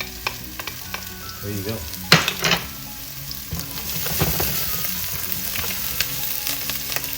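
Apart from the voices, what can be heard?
garlic and onions frying in a pan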